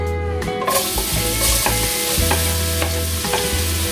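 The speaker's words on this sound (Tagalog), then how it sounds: "Magigisa tayo ngayon ng bawang." Minced garlic sautéing in olive oil gives a loud, close sizzle, with a few quick spoon scrapes and stirring clacks in the pan over a short stretch.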